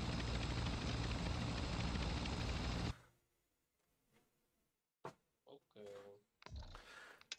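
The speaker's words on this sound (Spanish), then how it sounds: "Ah, pero es el helicóptero que nos lleva." A helicopter in the video game Warzone 2.0 whirs loudly and steadily, then cuts out abruptly, followed by near silence, then faint clicks and voices talking.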